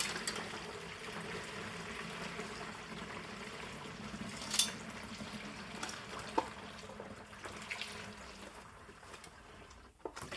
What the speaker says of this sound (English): I'm going to slowly pour this back in the bucket